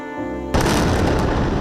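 Night explosions in Gaza City during the Israel war erupt suddenly into a loud, dense, sustained blast of rumbling booms and crackle, cutting off a quieter tonal passage.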